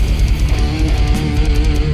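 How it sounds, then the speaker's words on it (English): Death metal playing loud and dense, with rolling drums pounding steadily beneath a sustained melodic lead guitar line, continuous throughout with no voices. "bizarre rolling drums and the melodic lead guitar give it a very unique feeling"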